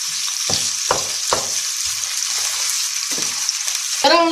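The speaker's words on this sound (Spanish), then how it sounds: "ahora lo echamos en el bacon y removemos" Chili peppers, green pepper and onion sizzle loudly as they are stirred into frying bacon in a pan, with a constant close hiss broken by several scraping stirs.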